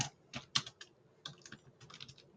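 An SKU is typed on a computer keyboard: quiet, close bursts of quick key clicks with short pauses between groups, no voices.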